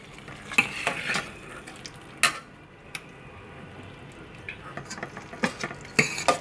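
Chicken and capsicum frying in a pan for chicken macaroni, with a soft steady sizzle and intermittent scraping and clinking as a spoon stirs against the pan.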